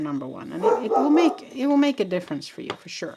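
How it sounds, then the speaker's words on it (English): A puppy barks in the background while someone talks steadily over it, the short yips mixed under her voice. "Sorry about the dog barking in the background."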